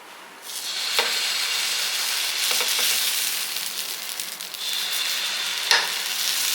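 Small rounds of dosa batter poured onto a hot dosa griddle on a stove. A sudden hissing sizzle rises and holds steady, with a few faint scrapes and one sharp clink near the end.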